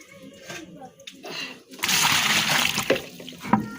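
Something is rinsed in water in a home kitchen during cooking. Someone talks at first, then a burst of running, splashing water takes over for a second or two before quieter sloshing.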